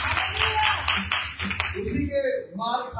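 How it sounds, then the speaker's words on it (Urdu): A church congregation at a Sunday fasting service in Faisalabad claps loudly in a dense, rapid burst that fades after about a second and a half, followed by someone speaking. "آئیے یسوع مسیح کے لہو کے لیے زوردار تالیاں بجائیں"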